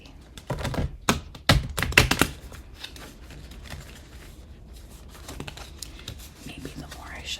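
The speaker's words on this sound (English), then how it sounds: "Maybe the more I shuffle these, the easier it'll be." Close, crisp flicks and riffles of Magic: The Gathering cards being shuffled in a few quick bursts, then softer scattered shuffling noises.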